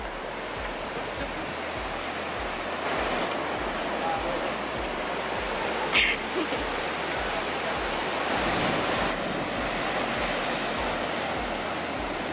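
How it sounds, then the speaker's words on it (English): Ocean waves along the Coogee to Bondi coastal walk in Sydney make a steady broad wash of surf, with swells building louder around the middle and end, heard up close outdoors with a brief knock partway through. "And there I was, just enjoying the views of the ocean waves up close, while Riley was taking beautiful photos at"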